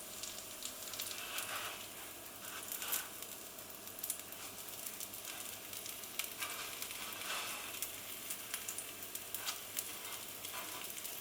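Food frying in a pan, a quiet continuous sizzle and crackle with a few soft pops, heard alone without voices.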